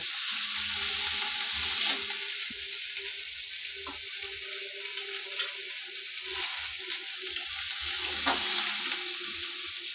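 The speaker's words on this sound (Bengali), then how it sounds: "ওই তেলের মধ্যেই আমি পেঁয়াজটা আর রসুনটা দিয়ে দিচ্ছি পেঁয়াজ রসুনটাকে খুব ভালোভাবে আমরা ভেজে নেব" Onion and garlic sizzle steadily in hot oil, with occasional scraping and stirring clicks from a utensil; no talking.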